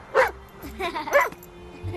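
A dog gives a few close yips and whimpering barks in short bursts, fairly loud and alone, with a steady faint background hum.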